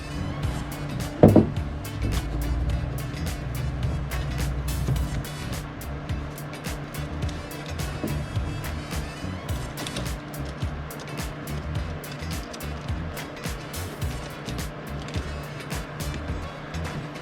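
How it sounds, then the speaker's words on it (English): A postal service delivery truck passes outside, its engine a steady, moderately loud rumble that fills the background for the whole stretch without any talking. "Do I hear a delivery truck?"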